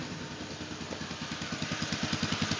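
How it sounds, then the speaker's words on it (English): A buggy engine fitted with a 30 mm pumper carburetor and uni filter starts and settles into a steady, close, lumpy idle, its rhythmic pulses growing slightly stronger and more regular. "Start her up. Starts and idles pretty well."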